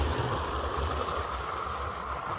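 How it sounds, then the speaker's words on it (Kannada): River water in Uttara Kannada flows in a steady, continuous rushing wash with low gurgling beneath, moderately loud and without talking. "ಮುಂದ್ಗಡೆಯಿಂದ ಬರ್ತಾ ಇದೆ ನೀರು"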